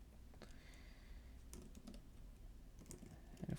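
Light, scattered keystrokes on a computer keyboard, faint and close, with a few clicks spread irregularly over a few seconds and no talk.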